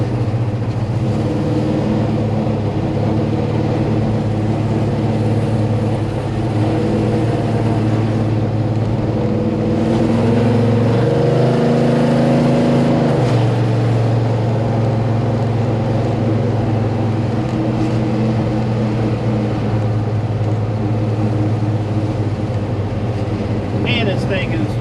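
A car fitted with Holley Dominator carburetors drives along, its engine giving a loud, steady low rumble that swells briefly midway, as if revving, with voices heard over the drone.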